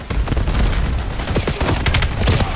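Rapid gunfire and explosive booms from a first-person shooter video game, loud and close, with bursts of automatic fire and heavy thuds layered densely over the whole stretch without any talking.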